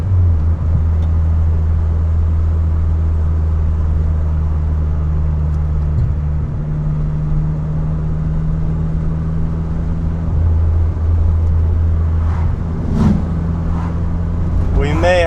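A turbocharged, untuned Honda Civic makes a 0 to 60 run, a loud, constant engine and road drone heard from inside the car, with faint hissing bursts near the end.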